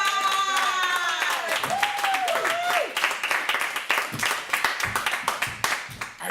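An audience at a spoken-word poetry event breaks into applause after a performance, a dense wash of clapping building and continuing steadily, with someone speaking over the start of it.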